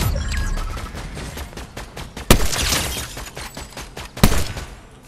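Gunfire in the video game Fortnite: rapid bursts of shots with two sharp, louder cracks standing out amid the rattling fusillade, no voices.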